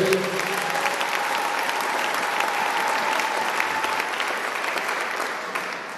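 A church congregation breaks into sustained applause during a sermon, a dense, even clapping that holds steady for several seconds before tapering slightly at the close.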